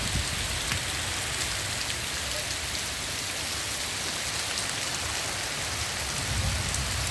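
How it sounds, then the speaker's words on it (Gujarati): Unseasonal rain falls steadily over Limbdi village, a dense, even hiss of drops on surfaces that holds at a constant level throughout, with no voices. "લીંબડી ગામની અંદર કમોસમી વરસાદ,"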